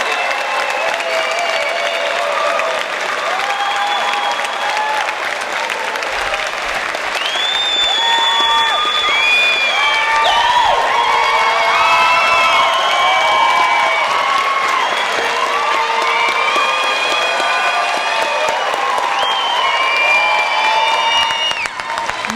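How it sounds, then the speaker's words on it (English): Large audience applauding a high school graduating class at a 2019 graduation ceremony, dense sustained clapping with scattered whoops and cheers rising and falling throughout, loud and continuous from start to finish. "Please, a round of applause for our graduating class of 2019 of the Utica Academy for International Studies"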